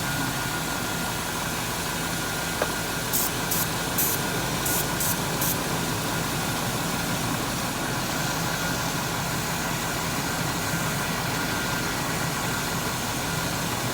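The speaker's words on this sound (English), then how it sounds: "So we're just going to spray around common leak areas." A 1997 Chevrolet Suburban engine with a lean condition idles steadily while a handful of quick hissing spray bursts fire in a rapid cluster around vacuum leak areas, then the idle continues alone.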